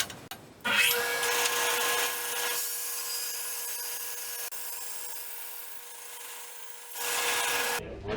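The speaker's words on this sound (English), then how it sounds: "I'm going to try it here at the bandsaw first." A bandsaw cuts through a wooden board for an outdoor Leopold bench. A steady motor whine and rasping blade noise run for several seconds between short louder bursts at the start and end of the cut.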